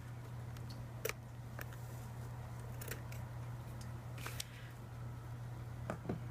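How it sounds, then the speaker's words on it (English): Scissors trim the paper ends of a ribbon on an Easter egg exploding craft box, a few sharp isolated snips spaced apart over a steady low hum in a quiet room. "I'm just going to take my scissors and trim up the ends here."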